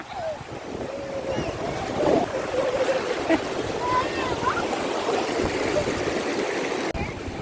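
A big sea wave rushes in on a Konkan beach with a continuous, loud roaring wash of surf and wind, while people shout and call out over it.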